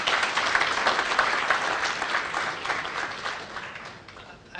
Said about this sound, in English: I think he deserves another round of applause for his persistence